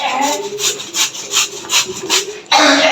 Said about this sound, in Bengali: গ্রেটার দিয়ে ঘষে নিচ্ছি